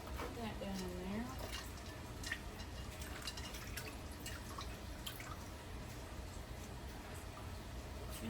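Water trickling and dripping as homemade butter is rinsed to wash out the buttermilk, a soft continuous splashing close by with light clinks, quiet throughout.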